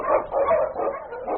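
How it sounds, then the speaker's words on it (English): A lead sled dog barking in an old-time radio drama set in the snowy Yukon: a few loud, close, rhythmic barks and yips in quick succession with no voices over them. "The Wonder Dog King, swiftest and strongest of Eskimo lead dogs"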